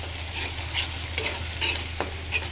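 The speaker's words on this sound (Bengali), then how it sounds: "মশলাটা এখন ভালো করে একটু কষিয়ে নেব" Homemade roast masala with soy sauce and tomato sauce being stirred and fried in a pan, giving a close, loud sizzle with scraping strokes of a spoon and a sharp spit or clink near the end.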